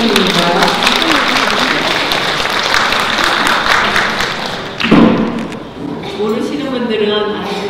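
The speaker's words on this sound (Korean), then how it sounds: "이사장 나오실 때 모두 큰 박수로 부탁드립니다." Audience applause at a Korean flower design association year-end ceremony as the chairperson walks up, a dense, steady clapping that fills the room, with thumps and a voice over it near the end.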